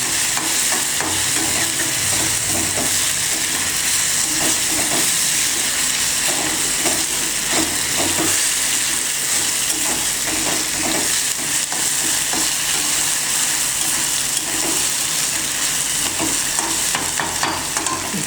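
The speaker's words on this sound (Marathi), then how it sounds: "चांगली मिरची परतून घ्यायची" Green chillies and onion frying in a pan for a rustic village-style kanda-mirchi thecha, a steady loud sizzle with periodic stirring scrapes throughout, no talking.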